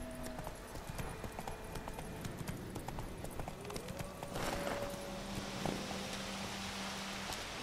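Horse hooves clip-clop at a steady galloping rhythm in The Witcher 3: Wild Hunt on PS4, mid-distance and fairly loud over a light ambient bed, with a brief tonal whoosh partway through.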